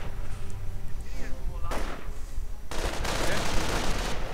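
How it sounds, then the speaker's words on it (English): Mortar rounds and small-arms fire crack and thud through a busy 1v1 World War II strategy game battle with Panzer IVs and infantry, dense and continuous, with a commentator's voice running over the din. "And mortar fire continues to harass the forces of Qwolf"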